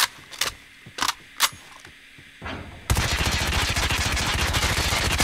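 Gun hip fire in a first-person shooter: a few sharp separate shots and mechanical clicks come first, then a loud, rapid sustained automatic burst rattles steadily to the end.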